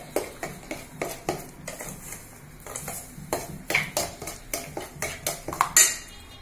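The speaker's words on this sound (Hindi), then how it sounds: "मैं धीरे धीरे इसमें मिक्स करूंगी" A spoon scrapes and clinks around a bowl while about 1.5 cups of sugar are slowly mixed into wheat banana cake batter, making steady rhythmic strokes up close with no talking.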